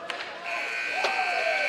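The final buzzer sounds at an ACHA college ice hockey game between Arizona and Oklahoma in 2024, a sustained electronic tone. It comes in after a brief pause over arena crowd noise, with a voice faintly audible underneath.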